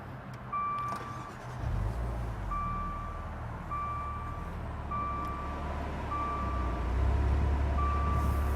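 A turbocharged luxury sedan's engine cranks and catches into a low, steady idle rumble that swells near the end, while a series of evenly spaced electronic beeps repeats throughout.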